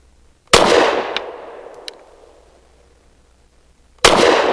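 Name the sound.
SIG P365 pistol firing 115 grain ammunition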